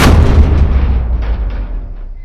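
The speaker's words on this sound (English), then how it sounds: "Am I hearing gunshots?" A loud gunshot blast in the RoboCop: Rogue City video game, a sharp booming report that opens the moment and then decays into a long rumbling echo.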